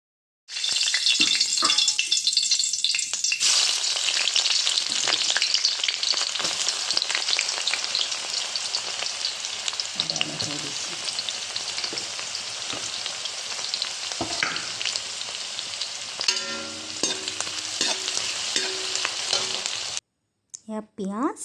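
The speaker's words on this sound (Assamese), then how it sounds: "পিঁয়াজখিনি অকণমান ফ্ৰাই কৰাৰ পিছত মই এতিয়া মেৰিনেট কৰি ৰখা মাংসখিনি দি দিলোঁ" Marinated duck meat with onion, ginger, garlic and mustard oil sizzles loudly and steadily in a pan as it dry-fries, with occasional stirring scrapes, before cutting out briefly near the end.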